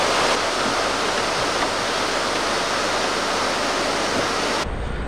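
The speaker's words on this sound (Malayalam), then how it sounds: "നമ്മുടെ ആതിരപ്പള്ളി വാഴച്ചാൽ റൂട്ടിലുള്ള ഒരു കുഞ്ഞു വെള്ളച്ചാട്ടോ" A small waterfall along the Athirappilly–Vazhachal forest route in rainy weather pours in a steady, dense roar close by. The sound holds unbroken for about five seconds, then thins abruptly at the very end.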